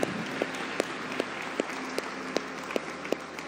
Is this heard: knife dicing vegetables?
no